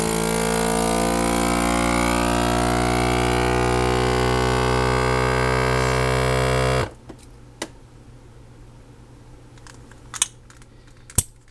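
A vacuum sealer's pump runs in accessory mode with a loud, steady motor whine for several seconds, then cuts off abruptly, leaving a quiet room with a few sharp clicks and taps.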